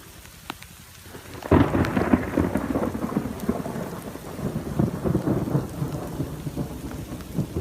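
A deep thunder rumble breaks out loud after a quiet start, then rolls on beneath steady heavy rain drumming on surfaces.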